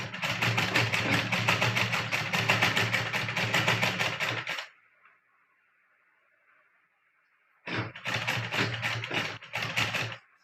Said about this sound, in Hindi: चेन को बीचों बीच रखना है हमें, और सिलाई करते जाना है सीधा।